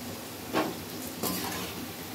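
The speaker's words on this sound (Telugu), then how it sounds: "ఈ ముక్కలు కొద్దిగా వేసుకొని డీప్ ఫ్రై చేసుకుందాం." Vegetable pieces deep frying in hot oil give a soft steady sizzle, with two brief louder bursts as pieces are added or stirred.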